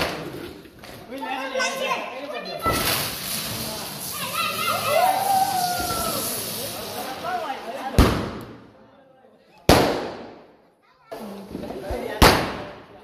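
Firecrackers burst outdoors during Diwali, several sharp loud bangs ringing out near and far, including a whistling rocket and a few isolated blasts, while people talk and children play nearby.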